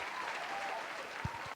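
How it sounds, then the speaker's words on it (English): A round of applause for Amber Rose on a podcast, quiet and steady clapping that stops abruptly near the end, with no talk. "Let me just give her a round of applause."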